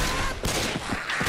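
Shotgun blasts fire in Left 4 Dead 2, several heavy booming shots in quick succession amid chaotic gameplay noise.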